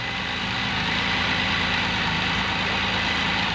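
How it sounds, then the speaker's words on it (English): A Can-Am Spyder three-wheeled motorcycle idles steadily and up close, a continuous even engine rumble with a broad hiss and no speech. "So you hear the bike idling like a champion."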